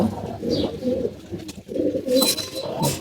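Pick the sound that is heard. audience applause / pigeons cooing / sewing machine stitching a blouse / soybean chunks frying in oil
pigeons cooing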